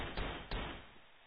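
QBZ 03 rifle fired in a shooter video game: two quick, sharp gunshot bursts with a rumbling tail that fades out, loud, close and without voices.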